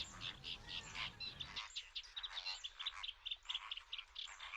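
Gulls calling at an Audouin's gull breeding colony in the Ebro delta, a dense overlapping chorus of sharp cries and chattering calls that continues throughout, fairly close, with no talk.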